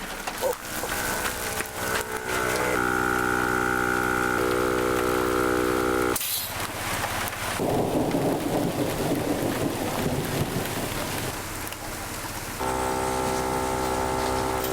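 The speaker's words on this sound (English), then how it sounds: "The second I got to the campsite, it started raining." Rain falls at a campsite during an off-road overland trip in Colorado, heard as a steady dense hiss broken by abrupt shifts and rumbling, fairly loud and close throughout.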